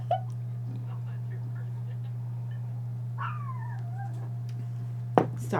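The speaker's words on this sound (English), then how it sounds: "Sorry if you hear the puppy barking in the background." A puppy yelps once in a thin, whining cry in the background, faint and distant over a constant low electrical hum, with a few soft clicks around it.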